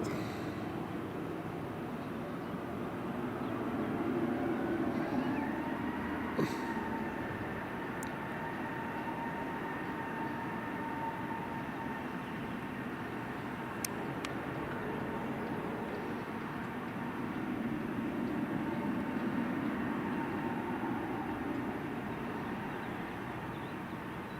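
A Jet2 airliner from Bristol landing at Madeira Funchal Airport, a sustained distant jet engine roar with a rising whine that holds steady, heard alone with no voices.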